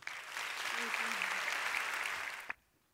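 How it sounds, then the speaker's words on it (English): A TEDx conference audience applauds a speaker, a dense, even roar of clapping with a brief voice underneath that stops abruptly near the end. "Another round of applause for Pia"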